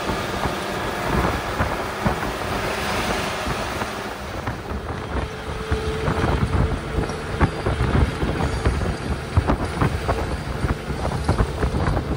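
Humid pre-rain wind gusts steadily past a small bus climbing through Sumatran forest, a loud, broad rushing roar buffeting the microphone with rumbling engine and road noise underneath.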